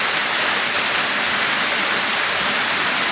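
Rain falling steadily, a loud, even hiss of drops on surfaces that continues without pause and with no voices.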